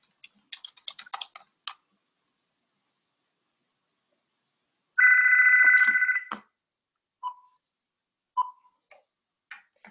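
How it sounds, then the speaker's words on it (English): A phone goes off in a quiet room during an algebra lesson: a steady electronic ring of about a second, followed by a few scattered clicks and taps, with no talking. "Phone went off over here."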